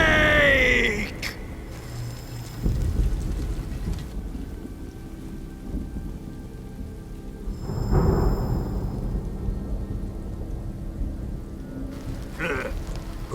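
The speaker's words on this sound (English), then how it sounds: "Who's afraid of a little thunder?" A thunderstorm in the video game Metal Gear Solid Delta, with steady rain hiss, deep rolling thunder rumbles and a sharp crack midway, plus scattered game effects, and no voices heard.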